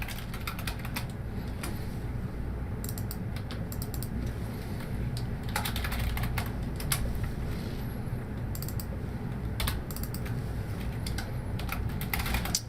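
Steady, rapid typing on a computer keyboard during data entry in ArcGIS Pro, a dense stream of close key clacks with occasional louder bursts, over a constant background hiss and no speech.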